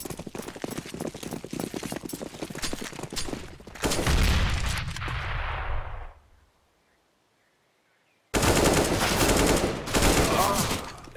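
Counter-Strike match on the Inferno map with AK and Deagle fire. Rapid close gunshot bursts come first, then a heavy roaring blast that fades into near silence. Another dense stretch of loud game noise follows.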